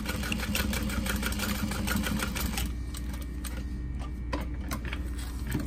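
A sewing machine stitching a barrel bag, a close, fast, steady mechanical whir of rapid needle ticks that eases off partway through, followed by a few scattered clicks with no talking.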